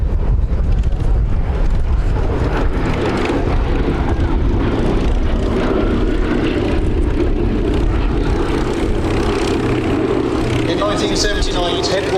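A B-17 bomber with four 1,200-horsepower radial engines drones overhead at an airshow, a loud, steady propeller roar that fills the whole stretch, with wind buffeting and people speaking over it.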